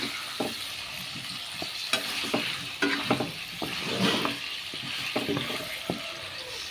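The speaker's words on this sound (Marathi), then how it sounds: "फोण्णां घायलें म्हणटकूच मातशें" Tempering (phonna) frying for Goan ambade ross: a steady sizzle runs throughout, broken by irregular spoon stirs and scrapes in the pan, close and moderately loud, with no talking.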